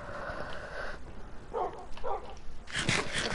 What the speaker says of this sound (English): Oh, I did get another dog.